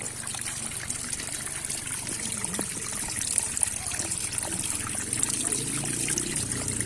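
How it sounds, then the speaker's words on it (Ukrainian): Small clear mountain streams trickle and babble steadily nearby on a trail near Lake Ivor in the Zakarpattia region, a continuous soft watery rush without talk. "просто безліч таких невеличких, чистих, прозорих, цвіркотливих струмочків."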